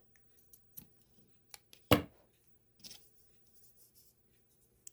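Scissors snip through crochet yarn in a few sharp, close cuts, one louder clip standing out among softer handling ticks in a quiet room.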